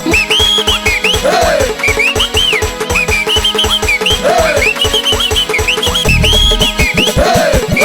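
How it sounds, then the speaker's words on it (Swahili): A whistle blown in repeated sharp, rising and falling blasts over a loud, thumping dance beat in a DJ mix, recurring every couple of seconds. "miluzi weka"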